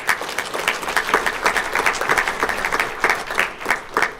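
An audience at a school board meeting applauds student award winners, many hands clapping in a lively, uneven patter that stays loud and continuous throughout.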